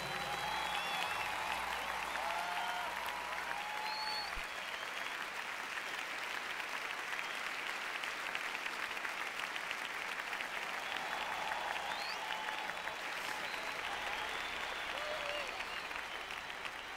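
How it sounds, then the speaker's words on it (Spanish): Sustained congregational applause fills a large worship gathering at a concert, steady and dense throughout with a few faint cheers rising above the clapping. "Cristo, ese aplauso."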